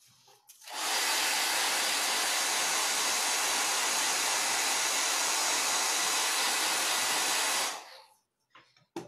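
A hair dryer starts up and blows steadily over freshly stencilled country primitive paint for about seven seconds, loud and close, then switches off into near quiet.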